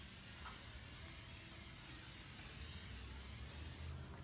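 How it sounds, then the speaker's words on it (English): Cooking spray hisses onto hot smoker grill grates at 250 degrees, a faint continuous spray lasting several seconds before cutting off, with no talking. "I'm gonna take some cooking spray,"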